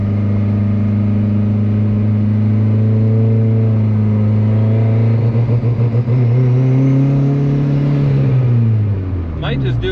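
A turbocharged Honda Civic with anti-lag accelerates hard in second gear. A loud, close engine drone climbs steadily in pitch, then drops off with some crackling at the end.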